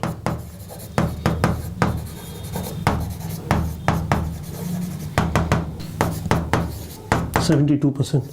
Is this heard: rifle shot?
no